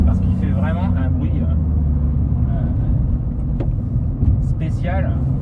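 Volkswagen Up! GTI engine with a sporty sound resonator, a steady low rumble and drone heard from inside the small hatchback on the road, with a voice talking over it throughout.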